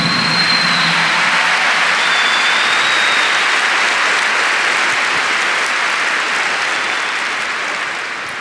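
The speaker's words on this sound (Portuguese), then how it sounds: "Give the Lord a big clap for that too." A church congregation claps loudly and continuously during a Catholic priest's talk. The dense, sustained applause fills the space at a steady level, then eases slightly toward the end.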